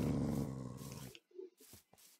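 Dogs in the video game Minecraft let out a loud, sustained growl for about a second, then short snarling bursts follow in a quieter stretch.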